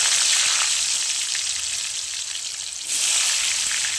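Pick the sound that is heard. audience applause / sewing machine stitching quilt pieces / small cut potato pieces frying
small cut potato pieces frying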